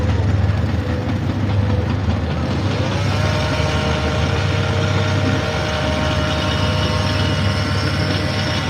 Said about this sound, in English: Oh, and there's a train going by now. You can hear it.